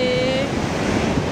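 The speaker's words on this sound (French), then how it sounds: "la mer est un peu déchaînée" Rough, storm-churned sea surf washes onto Amed beach in Karangasem, Bali, the morning after heavy wind, a steady close roar of breaking water with wind noise buffeting the microphone.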